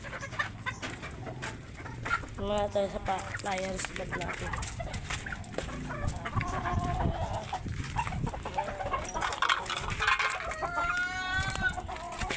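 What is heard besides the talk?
chickens clucking while waiting for feed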